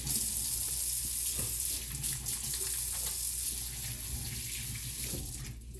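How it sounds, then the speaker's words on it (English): Water runs steadily from a kitchen tap into a sink while hands are washed, a close, continuous splashing rush with no talking. "I'm gonna wash my hands real quick."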